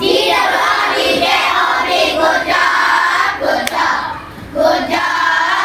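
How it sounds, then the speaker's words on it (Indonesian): Children in a classroom clap for the winning group, with busy, loud hand clapping mixed with a few excited voices and cheers throughout. "Tepuk tangan dulu untuk roti tawar."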